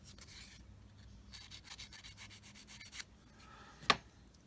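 Scratchy rubbing strokes of a sanding stick on a small part of a Tamiya 1/35 scale model come in uneven bursts, close up, with a short sharp tap near the end and no talking.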